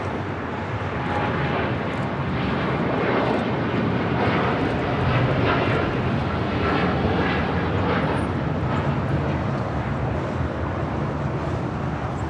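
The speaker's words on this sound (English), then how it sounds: "602 taking off to Amsterdam on a 787-10 Dreamliner" A KLM Boeing 787-10 Dreamliner takes off at LAX with a powerful, sustained engine roar, broad and even, slightly pulsing as it climbs.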